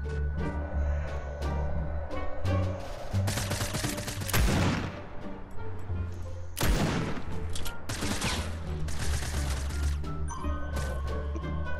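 Rapid gunfire bursts in Fortnite Prop Hunt, loud and continuous with dense volleys and crashing impacts throughout, building to heavy clusters of shots in the middle and later stretches.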